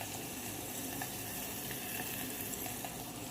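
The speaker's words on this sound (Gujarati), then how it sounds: "અંદર નાખી દીધી ડુંગળી અને મરચા" Steady, loud sizzling of onion and chilies frying in hot oil, a continuous crackling hiss with no talking.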